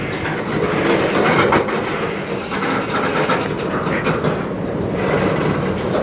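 A CN freight train passes at night in Sarnia, Ontario, its wagons rolling by in a loud, continuous rumble with irregular clanks and clatter.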